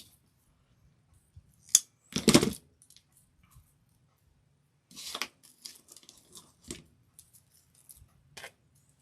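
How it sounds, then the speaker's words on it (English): Scissors snipping through craft material for a two-cardinal wreath: a few sharp isolated cuts, then a longer crunchy cut and scattered lighter snips after a pause, close and alone without talk. "I'm cutting that piece off, and then I'm going to cut right in the center here."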